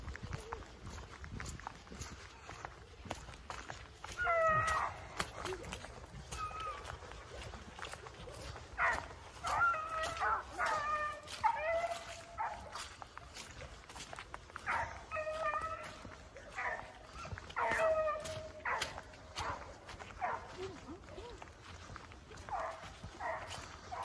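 Several dogs bark in repeated bursts at an outdoor dog training bootcamp during collar correction work, the barks loud and near, coming in clustered volleys with pauses between, over steady background rustle and movement.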